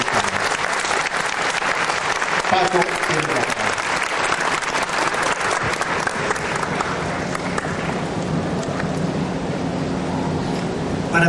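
Sustained audience applause fills a Mexican book presentation honoring the Cárdenas family, steady and dense throughout, with a voice speaking faintly over part of it.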